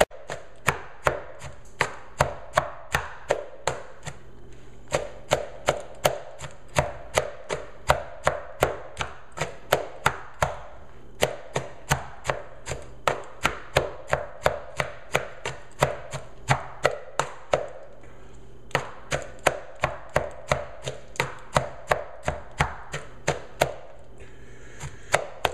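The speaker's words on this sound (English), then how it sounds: "that's another reason to chop it up" Vegetables chopped for a salad with a knife on a board, a long run of steady, evenly spaced sharp chops, close and crisp, with brief pauses and no talking.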